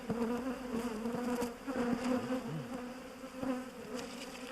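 Honeybees buzz around an open hive as it is being put back together, a close, continuous droning hum with individual bees passing near, and no one speaking.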